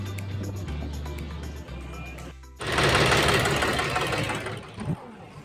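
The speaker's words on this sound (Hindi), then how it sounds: "तो इनके साथ वाला ट्रैक्टर भी आ गया एट द लास्ट" A tractor engine runs on a roadside in India, a steady low idle that jumps to a louder, rough, broadband roar partway through as the tractor pulls close and passes.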